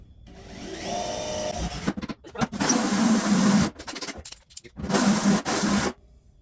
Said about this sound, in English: Cut yourself a perfect little hole.